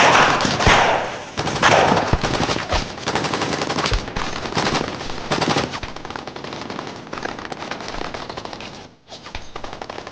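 Heavy gunfire in a film battle, sustained dense bursts of automatic weapons fire that stay loud and close throughout with a brief drop near the end, no talk.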